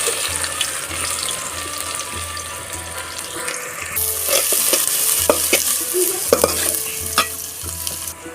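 Onions frying in hot oil with whole garam masala spices and bay leaves, a steady close sizzle with stirring and scraping clatter throughout, rising louder after about four seconds.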